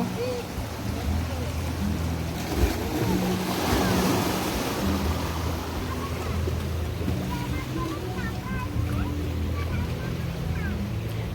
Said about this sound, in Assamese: সাগৰৰ ঢৌবিলাক কেনেকৈ আহি আহি শিলত খুন্দা মাৰিছেহি ডাঙৰ ডাঙৰ ঢৌ